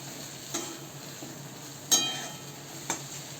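Onion chutney is mixed with Kashmiri chili and salt in quiet, close scraping strokes. Three soft stirring scrapes stand out over a faint background.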